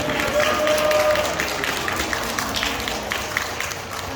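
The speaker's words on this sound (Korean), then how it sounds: "큰 박수 한번 부탁드릴게요" A crowd applauds after a fish-feeding show at an aquarium, with moderate, fairly even clapping from the audience that thins slightly near the end, plus faint voices in the room.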